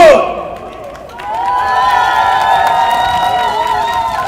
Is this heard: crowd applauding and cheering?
yes